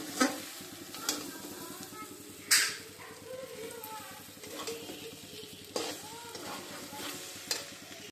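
Noodles stirred and mixed in a pan as they cook, with a steady sizzle of frying underneath and sharp scraping clinks of the utensil against the pan at intervals; a voice murmurs faintly in the background.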